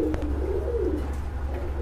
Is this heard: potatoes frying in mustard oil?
no